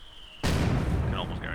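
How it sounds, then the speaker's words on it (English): A mortar shell slams into a German half-track in Company of Heroes 2, a sudden heavy blast that hits hard and rumbles on for about a second over a quiet battlefield hum, with a voice briefly audible underneath. "Gonna take a shot by the mortar."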